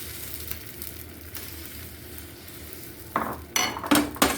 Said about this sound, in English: Add beaten egg into the tawa.